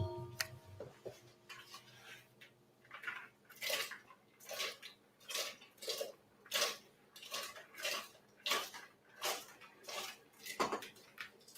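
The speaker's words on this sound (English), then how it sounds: "So I'm going to go ahead and put them in the hot water and start the boiling process." Peeled fava beans go into a pot of hot water, giving a run of short clinks, taps and splashy clatters at a steady pace, close and fairly quiet, with no talking.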